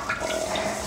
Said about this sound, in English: So just letting a little bit of water through, but no squirting up.